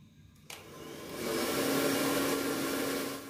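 A hair dryer switches on with a click and builds to a steady, close whooshing blow that holds evenly for several seconds, with no talking.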